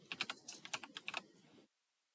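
Quick bursts of keystrokes on a computer keyboard, close and faint, in an irregular run lasting about a second and a half before stopping into silence.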